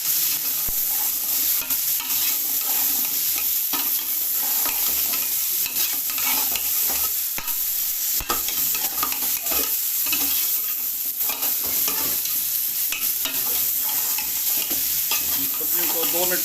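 Sliced large potato and capsicum stir-fried together in a pan, with a steady loud sizzle and frequent scraping and stirring clatter throughout, no voices.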